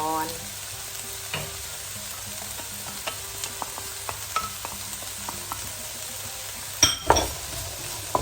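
Carrots tossed into a hot pan with cooked pork for fried rice, sizzling steadily while a utensil scrapes and clinks against the pan in irregular taps, with a louder clatter near the end.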